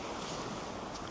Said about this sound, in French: à chaque fois, on croise un ruisseau.